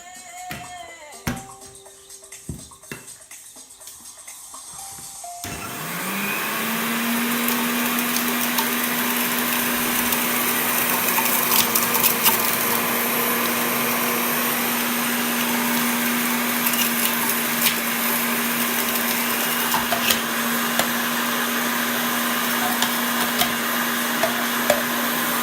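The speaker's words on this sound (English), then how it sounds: "Next, we have to blend the fruit in the blender." A blender motor whirs up after a few seconds of quiet clatter, then runs loud and steady with a constant hum and grinding as it blends strawberries and bananas.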